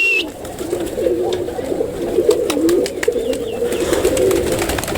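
Pigeons coo steadily, low rolling throaty calls overlapping close by, with faint chirps and small rustles over a soft background.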